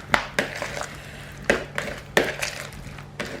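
Light mayonnaise being mixed into potatoes in a bowl, a spoon knocking and scraping against the side in irregular close taps with soft wet stirring between them.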